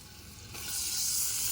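Cooking oil hits a hot pan while rice is being made at a farmhouse, and a sudden sizzle swells up and keeps hissing steadily, close and loud, with no talk.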